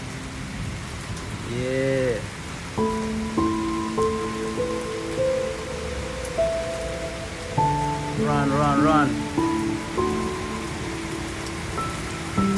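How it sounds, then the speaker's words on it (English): Rain falls outdoors in a steady, even patter of raindrops, with a few brief shouted words and some tonal sounds rising over the wash of the rain. "Raindrop, raindrop."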